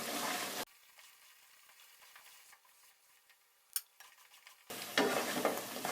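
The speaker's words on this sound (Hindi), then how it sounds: "इसको मुसलसल हिलाएंगे" Khoya made from milk being stirred continuously in a pan, a soft sizzle and scrape of the spoon that bursts loud at the start and end with a quieter stretch of faint scraping clicks between.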